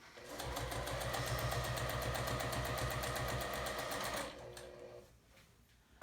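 A sewing machine stitches quickly through quilt layers with a loud, steady, rapid mechanical chatter for about four seconds, then stops.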